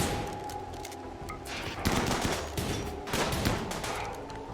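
Rapid bursts of small-arms gunfire crackle through a RimWorld colony firefight, shots overlapping in a steady, dense volley with a few louder peaks near the end.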